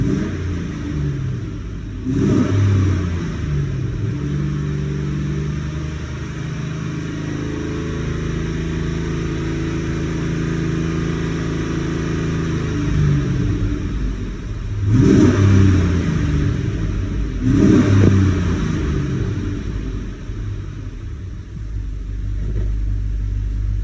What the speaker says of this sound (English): So motor sounds really good, you know, when you put your foot down.